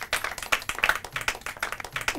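Clapping from a Hindi quiz show audience after a correct answer, a brisk uneven patter of hand claps with distinct individual claps, fairly close and without speech.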